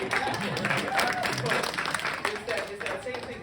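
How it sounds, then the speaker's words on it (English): An audience applauds soloists with a continuous wash of clapping, while voices talk over it throughout. "Doesn't it feel good when they applaud for you?"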